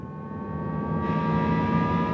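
Synthesized acceleration tone for a Jaguar I-PACE all-electric performance car: a steady, layered electronic hum with stacked pitches that swells slightly louder and brighter partway through, heard alone.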